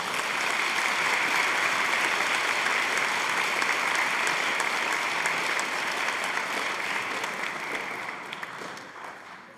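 Sustained applause from a crowd at a middle school band spring concert, steady and full for several seconds before gradually tapering off near the end.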